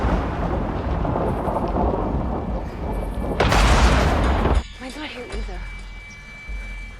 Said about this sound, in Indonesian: Dan hujan pun sangat deras.